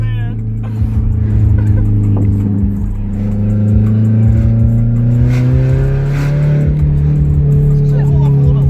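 A straight-piped 2002 Toyota Camry with the VVT-i engine drones loud and close with steady harmonics, climbing and falling in pitch as the throttle is worked, and voices talk faintly underneath.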